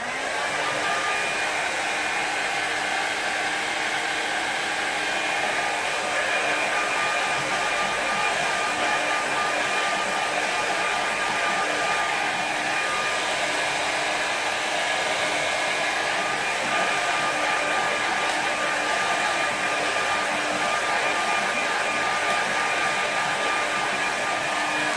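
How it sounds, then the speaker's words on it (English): A hair dryer blows steadily and loudly on a watercolour sky painting of a harbour, a constant broadband whoosh with a faint motor hum, unbroken for the full length with no talking. "What I'm going to do now is give that a quick dry"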